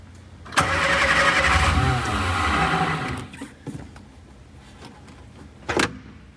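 Shorrock supercharged Sprite car engine starting with choke: starter cranks, the engine catches with a rough, loud burst for about two seconds, then dies away, followed by clicks and a second brief start attempt.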